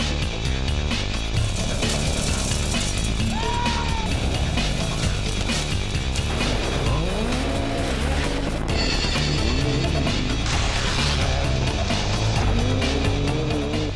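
Rally cars racing on a gravel forest stage in the Sperrins, Northern Ireland, with loud, continuous engine roar, rising and falling revs, gear changes and tyre noise as cars pass close by.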